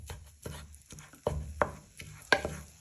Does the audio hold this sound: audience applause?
no